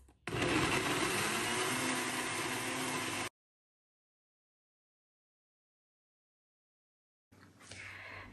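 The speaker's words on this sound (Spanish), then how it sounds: "Voy a empezar a agregar lo que son los chiles, el ajo y la cebolla a la licuadora." A blender blending chiles, garlic and onion whirs loudly for about three seconds and stops. After a few seconds of silence, it starts up again briefly at the end.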